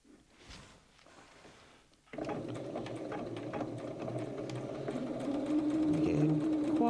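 A sewing machine stitches hexagon patchwork pieces. After about two seconds of quiet handling noise it starts up and runs steadily, close and loud, with a rapid mechanical whir that rises slightly toward the end.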